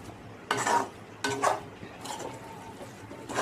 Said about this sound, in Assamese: গতিকে এখন চাফা কেৰাহীত ধুনীয়াকৈ লৰাই লৰাই ভাজিব লাগিব